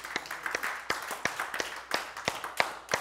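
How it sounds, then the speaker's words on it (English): A church congregation claps by hand during a Sunday service, a loose run of sharp, close claps scattered through the whole stretch, moderately loud and with no voices over them. "Give him a hand clap."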